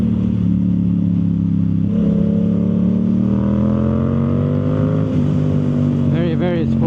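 A Yamaha YZF R7 with a Yoshimura full exhaust and no tune drones loudly and steadily while riding, its engine note rising gradually, with a rider speaking over it near the end.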